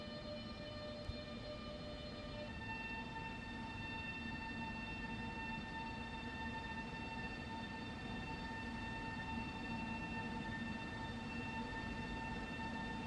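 Pendolino ED250 electric train in the SimRail game pulling away, a steady low rumble with sustained whining motor tones that shift and hold as it moves off, no talk.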